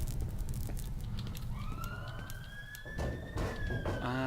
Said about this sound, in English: And there's a police siren, if you can hear it.